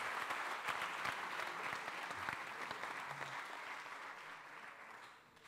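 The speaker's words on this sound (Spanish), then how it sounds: "Un aplauso para nuestro agujero negro" Sustained audience applause at a science café talk, many hands clapping steadily near and loud, tapering off toward the end.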